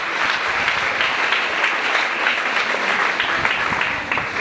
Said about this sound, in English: another big round of applause for Reverend